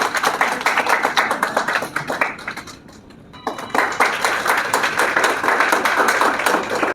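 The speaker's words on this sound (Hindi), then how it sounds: "Please give her a big round of applause." Audience applause for an honoured guest at a Lucknow cultural event: dense, close clapping that dips briefly in the middle, then resumes just as strongly with no talk.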